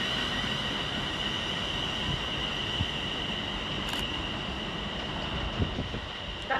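Trains at Crewe railway station produce a steady rail rumble with faint wheel squeal and platform ambience, moderately distant, with no voices.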